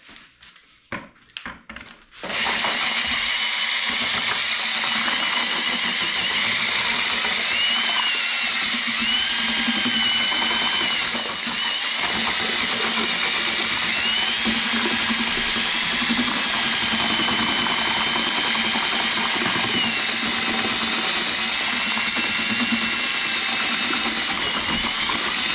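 An electric mixer whirs steadily, blending pollen patty ingredients for winter bee feeding, a continuous motor drone after a few short bumps and clatters at the start.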